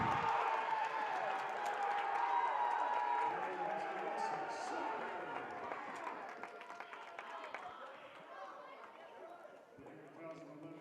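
A basketball crowd at a women's game roars and cheers after a layup and foul, a loud swell that slowly fades over several seconds, with an announcer talking over it throughout.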